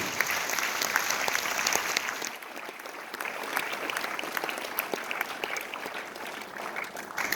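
An audience applauds steadily at an evening prize-giving event for a girls' final. The dense clapping holds at an even level throughout, easing slightly partway through.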